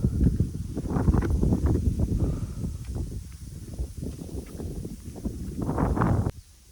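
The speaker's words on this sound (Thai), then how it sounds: "ลมพัดเย็นขนาดตอนนี้" Wind buffets the microphone outdoors among hillside rice fields in northern Laos, in loud, uneven rumbling gusts that drop off abruptly at the end.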